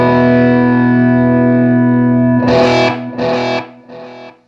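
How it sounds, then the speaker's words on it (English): A guitar runs through a Danelectro Dan-Echo delay pedal: a sustained distorted chord is followed by three fading, warm lo-fi tape-style repeats, each quieter and shorter than the last. "lo-fi kind of tape echo sound, like the tape is getting wore out or the heads are old or something"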